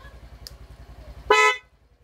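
Replacement horn on a Yamaha Mio i 125 scooter, one short loud bright honk heard near, preceded by a steady idling engine putter and a faint click.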